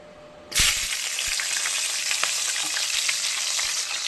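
Chopped green chillies drop into hot oil, setting off a sudden loud burst of frying that settles into a steady crackling sizzle with small pops throughout.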